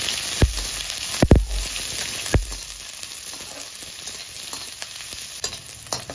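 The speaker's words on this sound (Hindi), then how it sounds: "अब हम प्याज डालते हैं। प्याज को हमें हल्का हल्का भूनना है।" Onions fry in hot oil in a kadai for a Chinese-style potato and capsicum dish. A steady close sizzle runs with a few sharp metal knocks early on and light stirring scrapes throughout, and no one talks.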